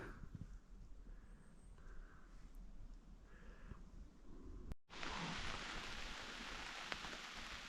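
Steady rain falls in the autumn Carpathian highlands, a continuous hiss of drops that grows noticeably louder and denser partway through, with no voices heard.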